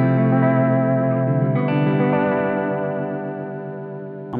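An electric guitar plays through an Xvive V21 Echoman analog delay set to its vibrato mode, distorted chords wobbling in pitch with echoing repeats, loud and sustained, slowly decaying, with no voice.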